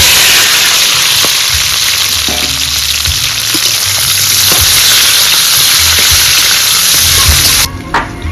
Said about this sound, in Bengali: এবার ভাজার সবজিগুলো সব ফোড়নে দেব